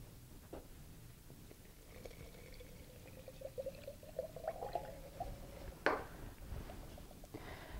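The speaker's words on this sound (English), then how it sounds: "And then fill the rest of the jar with water." Water pours steadily into a glass jar holding soil and a little dishwashing detergent, a quiet gurgling fill that rises in pitch over several seconds, with a brief louder splash near the end.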